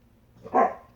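A single dog bark, short and moderately loud, rings out against a quiet indoor background.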